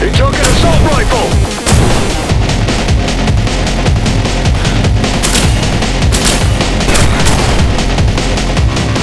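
Loud, sustained assault rifle fire in a video game, rapid shots mixed with heavier booms and explosions throughout, forming a dense barrage over several seconds.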